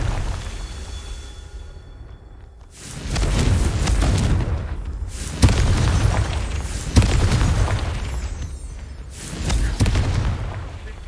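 Blasting-spell explosions from the Hogwarts Legacy video game boom out loudly in repeated heavy bursts, several sharp cracks riding on rumbling low blasts, separated by brief quieter gaps.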